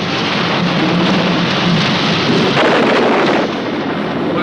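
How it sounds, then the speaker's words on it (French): Heavy rain pours down in a dense, continuous roar, loud and close throughout, with no voices. "On ne voit rien avec une pluie pareille."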